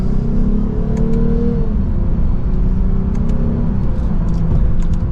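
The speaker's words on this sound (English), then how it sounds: "Nice mild acceleration for this new RC350" A 2023 Lexus RC350 F Sport coupe pulls from second gear, its engine holding a deep, steady drone as it climbs mildly in pitch, heard from inside the cabin with road rumble underneath and no talking.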